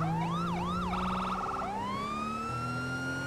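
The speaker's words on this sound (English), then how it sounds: "Get our siren right there." Police car siren in the GTA 5 LSPDFR police game, wailing and sweeping up and down, switching briefly to a fast yelp, then rising into a steady wail, loud and continuous over engine hum.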